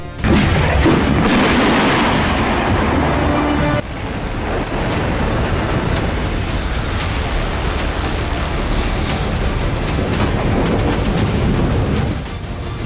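Heavy booming blasts rumble loudly, a thunderous roar that swells, drops, and continues as a dense rolling rumble.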